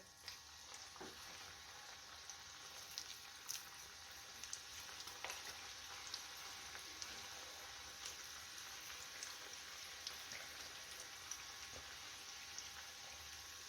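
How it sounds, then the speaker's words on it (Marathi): Crab-shaped bhaji fritters sizzle and crackle in hot oil, a steady, soft hiss broken by frequent small pops and spits, close but fairly quiet. "बाकीची भजी पण आपण तळून घेऊया"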